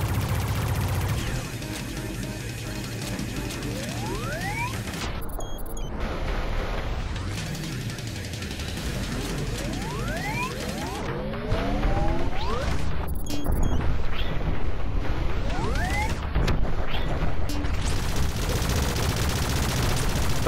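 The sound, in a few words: gunfire in the VR game Space Pirate Trainer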